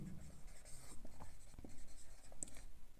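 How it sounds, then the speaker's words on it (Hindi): A teacher writes points on a board during a physics lesson, making soft, intermittent scratching strokes that are faint and close. "तो बेसिकली मैं 4 पॉइंट यहाँ पे लिखता हूँ आपके लिए"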